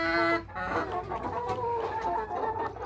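Chickens cluck and murmur close by in a steady, busy chorus in a poultry coop, with a brief higher squawk at the start.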